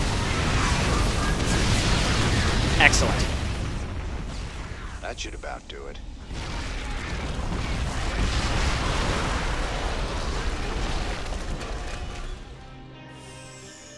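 A Yamato cannon blast is followed by rumbling explosions in StarCraft II, a loud, sustained roar that swells, dips, then returns and fades, while a short in-game voice line plays partway through.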